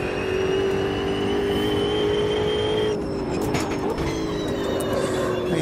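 Caterham race car in the video game Automobilista 2, with a continuous loud engine whine held at a steady pitch and then dipping slightly as the car shifts or lifts off, accompanied by faint tire and track noise and no talk.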